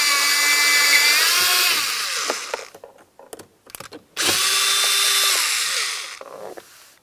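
A power tool whirs in two long bursts, backing out a 10mm-headed bolt inside the door of a 2009-2019 Ford Flex. Between the runs come sharp clicks and ratchet ticks, close and fairly loud, with no talking.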